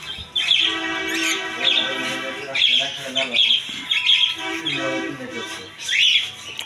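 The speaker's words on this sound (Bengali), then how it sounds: "এদিকে পেয়ে যাবেন টেম করা ককাটিল পাখি" Tame cockatiels at a busy bird and pigeon market in Kashinathpur, Pabna, give repeated sharp chirps and squawks close by, mixed with people talking nearby.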